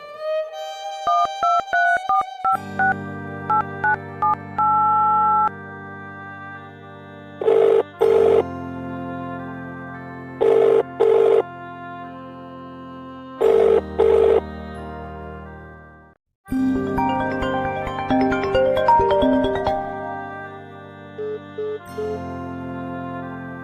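A telephone rings in repeated short bursts of bright electronic tones, set among sustained melodic background music, with no talking over it.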